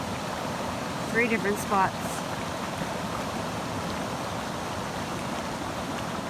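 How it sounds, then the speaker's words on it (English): Water rushing out at a portage in the Canadian wilderness: a steady, broadband wash of flowing water fills the scene, with someone speaking briefly over it. "there's some serious water coming out of here"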